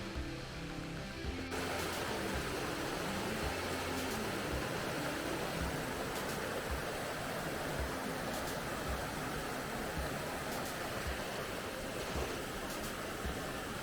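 A river flows with a steady, continuous rushing wash of noise, close by and unbroken, with no voices.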